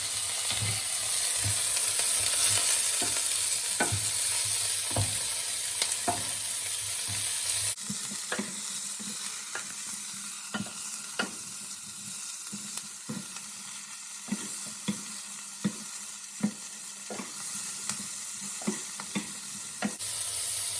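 Vegetables sizzling steadily in a hot pan while a utensil stirs them, giving a dense frying hiss broken by frequent scraping clicks, close up and with no talking.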